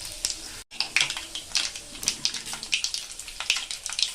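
Tempering spices crackle and sizzle in hot oil in a kadai, with chana dal, urad dal and mustard seeds popping in a steady string of sharp, close spits after one brief gap.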